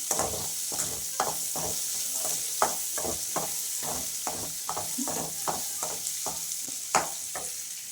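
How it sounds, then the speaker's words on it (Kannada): Ingredients for a palak paneer gravy fry and are stirred in a pan, with a steady broadband sizzle and regular scraping strokes of a spatula at close range; no one speaks. "ಹಸಿ ವಾಸನೆ ಎಲ್ಲ ಹೋಗೋದಕ್ಕೆ ಇದ್ರಲ್ಲಿ ಫ್ರೈ ಮಾಡ್ಕೊಳ್ಳೋದು."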